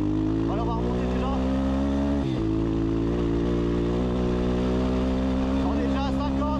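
An Apollo 150 RXF-E dirt bike revs hard and accelerates in the countryside, its loud, steady engine drone rising and dipping briefly around a gear change, close and continuous throughout.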